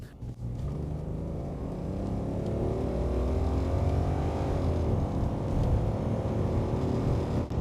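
A BMW E23 735i engine revs with its pitch rising smoothly over several seconds and holding high, a fairly faint, continuous rumble with no talking.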